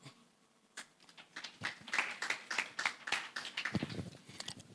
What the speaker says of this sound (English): Just continue clapping.